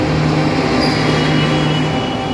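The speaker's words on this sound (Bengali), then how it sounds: "চলুন, ট্রেন সামনে এগিয়ে যাচ্ছে," The Vistadome Tourist Express rumbles at New Mal Junction, a steady, dense, continuous roar with faint tonal hums, loud and close, with no talk.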